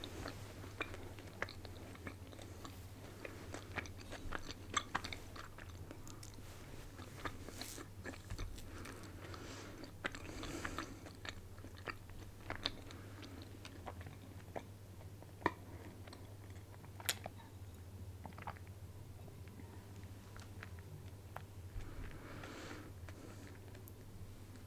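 Crunchy vegan biscuit pieces in a baked good are chewed close up, with steady soft crunching and biting clicks throughout and no talking.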